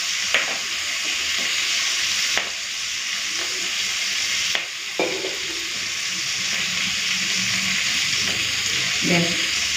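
Fish, likely amodi, sizzling in hot oil in a pan: a steady, bright frying hiss throughout, punctuated by a few sharp utensil clinks and brief scraping stirs.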